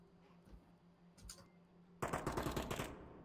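Gunfire in an Onward VR competitive match, faint distant shots at first, then a sudden loud burst of rapid automatic fire that rattles on steadily to the end.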